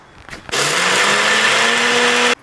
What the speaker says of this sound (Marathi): शेंगदाण्याचा कूट मीठ जिरे मिरच्या एकदा मिक्सरला काढून घेते